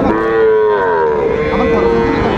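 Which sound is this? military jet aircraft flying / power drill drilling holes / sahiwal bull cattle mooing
sahiwal bull cattle mooing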